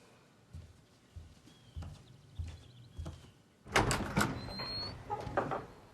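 A front door in a quiet house being opened: a run of soft knocks and handling bumps, then a louder burst of latch clatter and rattling as the door swings open, close by.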